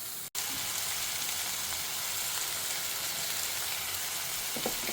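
Ridge gourd sautéing in a home kitchen pan for a chutney, giving a steady, close sizzle and hiss throughout with a brief dropout near the start and a few faint stirring scrapes toward the end.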